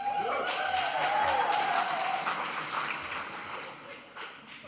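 A graduation audience cheers and applauds in a practice run, a broad wash of clapping and whoops that stays fairly loud, then slowly thins and fades over a few seconds.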